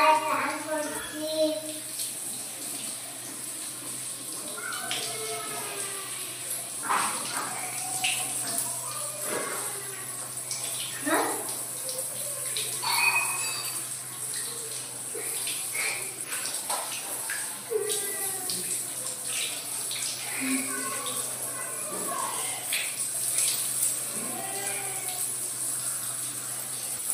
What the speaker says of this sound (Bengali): আমি সাবানে স্নান করছি